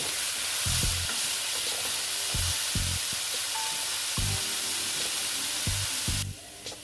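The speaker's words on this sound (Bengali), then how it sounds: "সামান্য একটু হলুদ দিচ্ছি। দিয়ে একটু ভেজে নিচ্ছি।" Turmeric and spices fry in a pan, giving a constant hiss of sizzling oil. Rhythmic low scraping strokes of stirring break through it, and the sizzle thins out just before the end.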